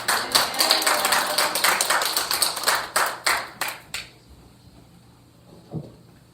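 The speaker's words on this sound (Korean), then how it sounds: "우리 할렐루야로 그냥 힘차게 박수로 영접해 주시면 고맙겠습니다." A church congregation claps to welcome a pastor to the front: sharp, loud rhythmic claps in unison for about four seconds, then stopping abruptly, followed by near quiet and a faint knock.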